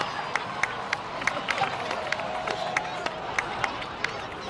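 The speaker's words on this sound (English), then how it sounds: "please give another round of applause for them" A crowd in Genshin Impact claps and cheers steadily with scattered sharp claps, a sustained wash of applause at moderate distance.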